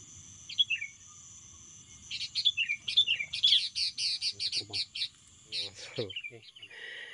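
A female bar-winged prinia held in the hand gives repeated high, thin chirps and short trilled calls, close and fairly loud, in quick bursts with brief pauses, over a faint low background hum.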